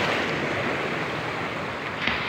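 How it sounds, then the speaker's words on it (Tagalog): Steady rushing surf at Bagasbas, Daet, fills the scene, a continuous wash of breaking waves with wind noise, fairly close and with no voices. "Grabe ang alon."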